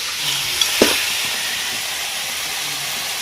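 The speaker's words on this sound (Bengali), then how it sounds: "আমি যতক্ষণ না বাদামি কালার হালকা আসছে ততক্ষণ মধ্যে এটাকে আমি ভেজে নেব হালকা" Chicken pieces fry with spices in a pan until lightly browned, a loud continuous hissing sizzle with a brief stir or clatter near the start and no talk.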